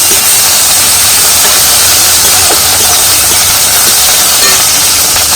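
Ginger and garlic fry in hot oil with a loud, steady, close sizzle and hiss that holds without a break and has no voices over it.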